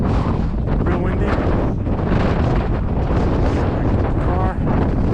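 Strong wind buffets the microphone in loud, continuous rumbling gusts in Uzbekistan, with faint voices barely audible beneath the roar.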